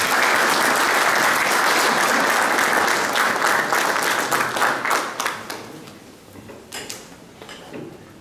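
Audience at an association visit applauds loudly and steadily for a few seconds, then the clapping thins out and fades into scattered claps.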